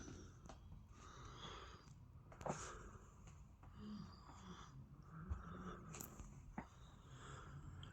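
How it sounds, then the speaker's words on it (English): Close, soft breathing with sniffs and faint snorting, steady in- and out-breaths near the microphone with occasional small clicks. "Can you hear me breathing?"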